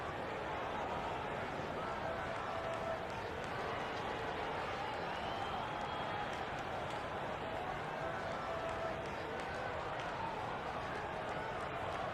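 Continuous crowd noise from an NBA arena crowd during a Los Angeles Clippers timeout, steady and dense over the full length, with applause and cheering for the team's dance squad blended into the broad roar.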